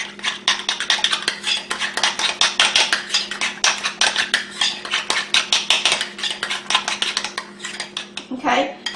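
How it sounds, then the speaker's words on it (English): Rapid, continuous clinking of a metal spoon against a bowl while mixing deviled egg filling with a splash of sweet pickle juice, a brisk rhythmic scraping that runs nearly nine seconds before slowing. "mix them up really good with my spoon"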